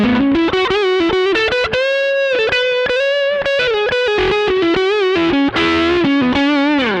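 Overdriven electric guitar lead played on a single-coil neck pickup through a Mosky Mini Screamer overdrive pedal: a loud, sustained singing melodic line with bends and vibrato, heard alone.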